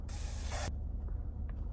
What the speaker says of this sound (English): A little butter spray.